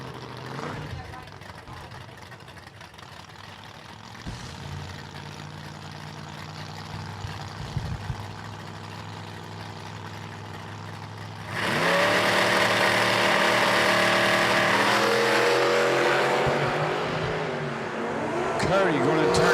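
Drag racing launch between a Chevrolet Nova and a Camaro at a drag strip, idling engines rumbling before both cars erupt into a loud, sustained full-throttle roar that carries to the end, with a commentator speaking over it.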